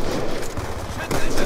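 Rapid, continuous automatic gunfire from the video game Call of Duty: Black Ops 2 Uprising DLC sounds loud and dense, with overlapping bursts throughout.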